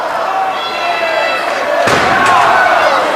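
A steel chair slams across a wrestler's back during a CZW tag title cage match, one sharp loud impact midway over steady crowd roar and ringing tones, with commentary talk running throughout.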